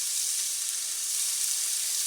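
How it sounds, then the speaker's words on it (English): Hot oil sizzles in a pan at medium-high heat before goose goes in for a stir fry, a steady hiss with no pauses, heard alone and fairly close. "It's sizzling."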